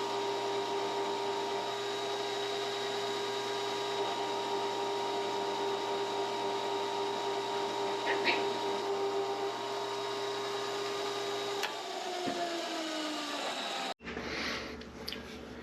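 CNC mill drilling a hole in a workshop, a steady whining spindle tone with faint cutting noise that holds for about twelve seconds, then winds down and cuts off abruptly.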